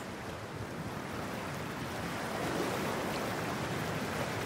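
Water in the video game Cyberpunk 2077 makes a steady, broad rushing and splashing wash, like surf or churning water. It fills the whole moment at a moderate level and swells slightly toward the end, with no speech.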